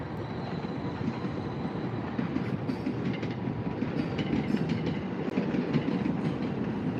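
A Tokaido Shinkansen high-speed train runs past at Tokyo Station, a continuous rushing rumble with faint rhythmic wheel clatter and occasional squeals, heard from a distance with no talking.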